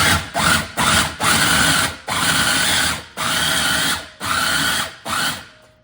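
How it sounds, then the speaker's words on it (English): A food processor grinds raw salmon for salmon burger sliders, running in a series of loud whirring bursts with short pauses between pulses, close up and with no one speaking. "I'm gonna go ahead and just process the salmon until it's smooth."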